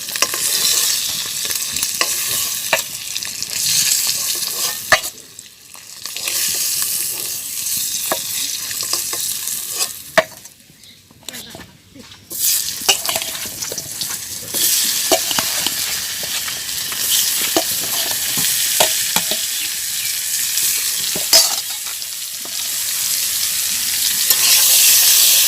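Potatoes fry in oil in a pan after eggs, a loud close sizzle with frequent stirring scrapes and clicks, pausing briefly twice before resuming.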